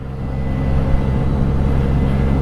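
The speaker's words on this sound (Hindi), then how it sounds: "पीछे टेस्ला की गाड़ी आ रही है।" A rented Tesla car moves along a street in Germany, heard as a loud, steady, broadband road rumble with constant low traffic noise throughout and no voices.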